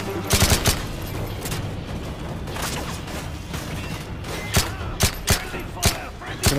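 Gunfire in Call of Duty: Modern Warfare 3: a dense fusillade of game weapons over a busy battle mix, with sharp separate shots cracking out loud near the end.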